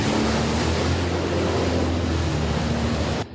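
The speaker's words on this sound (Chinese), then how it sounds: "游艇驶离岸边，鱼立刻上钩。" A chartered yacht heads out of Kaohsiung harbour, its steady engine drone and rushing water and wind noise filling the air continuously at close range, with no talking.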